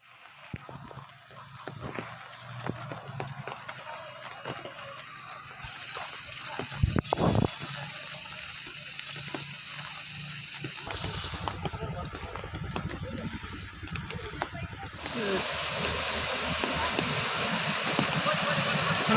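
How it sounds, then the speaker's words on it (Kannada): Floodwater from the Kumaradhara river spills across a highway near a bathing ghat, heard as a rushing, splashing wash that grows louder toward the end, with voices talking over it. "ಕುಮಾರಧಾರ ಸ್ನಾನಘಟ್ಟದ ಬಳಿ ಹೆದ್ದಾರಿಗೆ ನೀರು ನುಗ್ಗಿದೆ"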